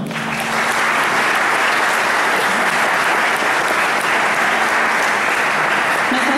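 Loud, dense applause from a church congregation at a missionary Sunday service, continuous clapping from many hands sustained at full strength throughout without a break.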